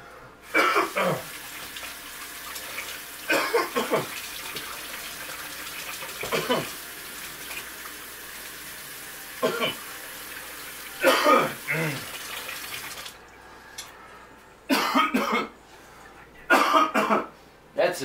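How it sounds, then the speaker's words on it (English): A person in a kitchen coughs and clears their throat several times in short, close bursts spread across the clip, with a faint running-water or background hiss between them. "That's a chef cough right there,"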